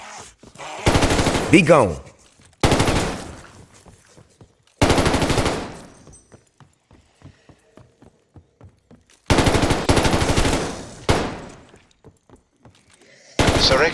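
Loud automatic gunfire in the Vanguard Zombies video game, several long rapid bursts separated by quieter gaps, with a brief spoken line over the shooting.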